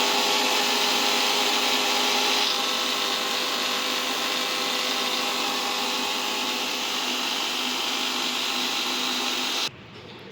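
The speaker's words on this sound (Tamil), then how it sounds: "ஸோ ஆயில் லெமன் சேர்த்ததுக்கப்புறம் மிக்சியில் ஒரு ஓட்டி எடுத்துக்கலாம்." A kitchen mixer grinder whirs loudly and steadily, blending oil and lemon into mayonnaise, holding one continuous high-speed drone for about ten seconds before cutting out abruptly.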